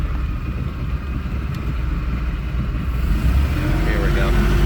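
A 2002 Bayliner Capri 185 boat engine runs in gear with a steady, droning low rumble that grows slightly louder near the end, with faint talk underneath.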